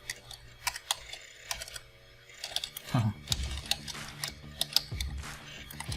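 Keys clatter on a computer keyboard in steady, close typing bursts, with a brief voice partway through.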